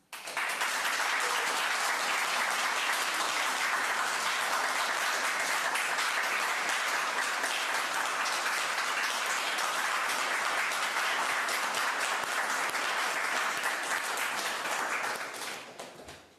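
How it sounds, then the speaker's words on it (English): An audience applauds to close a cabinet swearing-in ceremony at Rideau Hall, sustained, dense clapping from a large crowd that holds steady and then fades out at the end. "pour terminer la cérémonie, applaudissons les membres du 29e Conseil des ministres"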